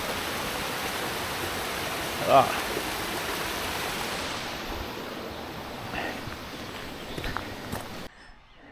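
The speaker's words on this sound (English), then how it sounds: "Another waterfall." Continuous rushing water from a waterfall and stream along a steep hillside hiking trail, a steady broadband roar that carries throughout, with a brief bump and a short spoken remark partway through.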